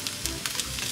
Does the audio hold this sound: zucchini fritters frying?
yes